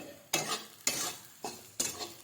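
Poha roasting in a pan with turmeric, stirred by spoon: four distinct scraping strokes at a steady rhythm over a soft sizzle, close and moderately loud.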